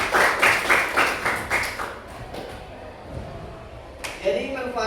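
A brief burst of rhythmic hand clapping from an audience, fairly close, fading after about two seconds into quieter room noise, with a voice speaking near the end.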